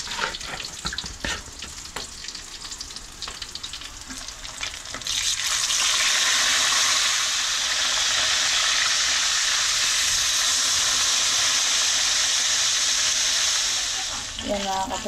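Quiet clatter of cooking at first, then a loud, steady sizzle of food frying in hot oil fills the rest, fading slightly near the end.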